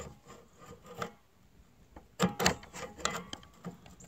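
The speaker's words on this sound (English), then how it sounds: "Put a flathead screwdriver in there." A flathead screwdriver scrapes and pries at the spring-loaded hood latch of a Chevrolet Silverado truck with a broken release cable. Faint, close metallic rubbing and clicks come and go, with a short, louder burst of scraping partway through.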